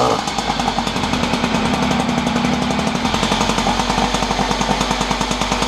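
A MR1 Tomahawk motorbike engine running just after a restart following a year unused, with a rapid, steady, loud mechanical putter that is close and continuous, with no talk.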